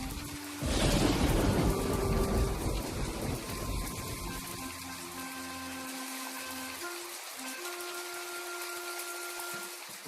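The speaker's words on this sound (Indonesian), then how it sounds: "Aku sedang menunggu kapan hujan akan berhenti." A rainstorm with a loud rumble of thunder at the start gives way to steady, hissing rainfall. Sustained tonal lines run through the rain, likely a musical soundtrack, and no one speaks.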